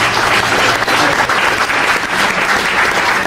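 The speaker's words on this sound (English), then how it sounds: "everyone who has given, give yourselves a round of applause" Steady, dense applause from an audience at an Armenian relief fund community event, continuous and fairly loud throughout with no voices over it.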